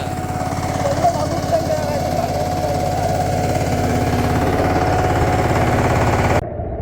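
A diesel tractor engine chugs steadily and loudly at close range in a muddy rice paddy in Sindhudurg, Konkan, a continuous low rumble with a faint whine, before cutting off abruptly near the end.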